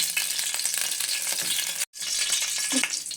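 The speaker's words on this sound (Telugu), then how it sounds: "ముందుగా స్టవ్ ఆన్ చేసి కడాయిలో ఇలా నెయ్యి అయితే వేసుకోవాలి" Ghee sizzles and crackles loudly in a kadai on the stove, with a dense, continuous frying hiss, a brief gap and a few light scrapes or clinks.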